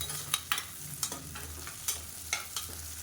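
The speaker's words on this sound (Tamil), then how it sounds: "இதையும் சேர்த்து நல்லா வதக்கி விட்டுக்கலாம்" Small chilies and onions sautéing in a pan, a quiet steady sizzle broken by several sharp scrapes and clicks of a spoon stirring at irregular intervals, with no voices.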